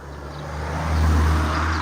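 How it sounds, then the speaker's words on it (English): A boy racer's car speeds up a road, its engine a low steady roar that swells louder toward the middle as it draws near, with no voices. "So you got the boy racer shoots up the road"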